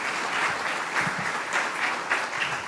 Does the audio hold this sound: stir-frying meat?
no